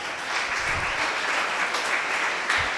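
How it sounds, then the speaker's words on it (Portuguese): A worship congregation breaks into applause, a continuous crackle of many hands clapping at moderate volume with a few sharper low thumps scattered through it. "Aplauda a Jesus por isso."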